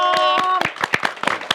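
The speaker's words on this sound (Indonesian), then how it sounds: "Tepuk tangan dong." Hands clapping in brief applause on an Indonesian talk show segment about Sherina, several sharp claps close by following a fading tone.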